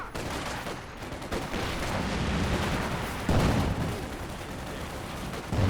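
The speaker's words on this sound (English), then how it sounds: "Ooh, another big shell from their mortar." A mortar shell launching and bursting in Company of Heroes 2 amid dense battle noise, a heavy boom standing out over constant gunfire and rumble, with no talk.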